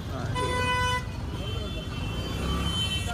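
Car and bus horns toot repeatedly in jammed traffic at a crowded Dussehra fair, loud and close, with people talking over the din of engines and road noise.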